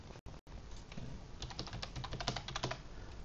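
Quick, irregular clicks of keys being pressed on a computer keyboard while a login password is entered, close and fairly loud, with no talking.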